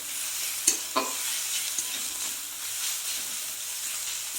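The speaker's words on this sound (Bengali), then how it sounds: "এটাকে আমি ভালো করে ভাজবো" Katla fish pieces fry with ginger and garlic in a pan for doi maach, giving a continuous close hiss and sizzle with a couple of brief utensil clicks near the start.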